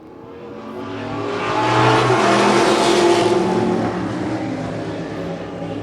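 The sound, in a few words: modified race cars racing at a green flag start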